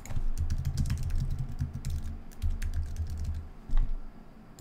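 Rapid, uneven keystrokes clatter on a computer keyboard close by, continuous over a low steady hum, with no talking.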